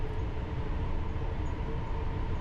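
A London Underground Piccadilly line train of 1973 stock, six cars, runs along the track, heard from the cab as a steady low rumble with faint whining tones and mechanical hum throughout.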